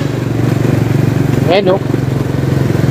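Motorcycles and light traffic passing on the road below an expressway, a steady mid-pitched engine drone with a brief rising whine from one passing vehicle, while a voice talks over it.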